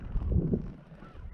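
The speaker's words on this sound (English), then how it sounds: "The birds." Birds on Brean Down beach honk like geese, giving a few low, rough calls that carry over outdoor wind noise and fade toward the end.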